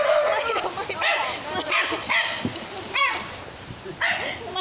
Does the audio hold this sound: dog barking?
yes